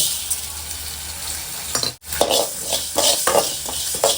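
Fenugreek seeds fry in a kadai with a continuous bright sizzle, broken by a brief cut near the middle, while a utensil stirs and scrapes against the metal in short strokes.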